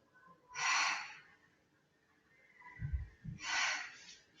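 Two strong breaths during a Pilates exercise, each a close, breathy rush of air, with a soft low thump between them.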